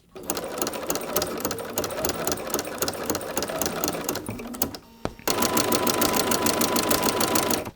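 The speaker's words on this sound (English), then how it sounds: "continue sewing right on top of the next piece of fabric" A sewing machine runs steadily, stitching two rows through ruffled fabric to gather pleats, its rapid needle clatter loud and close, briefly pausing and then resuming at full speed.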